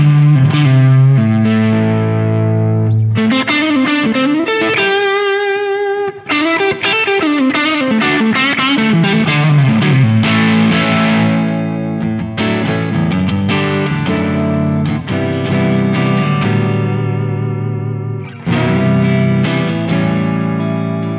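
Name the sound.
distorted electric guitar through amp rig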